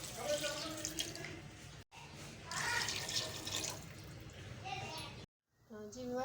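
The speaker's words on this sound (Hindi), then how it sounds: "पानी शामिल करूँगी।" Water runs from a tap into a pot of mutton for saag gosht, a steady splashing stream that stops briefly and resumes, with a voice and child speech in the background.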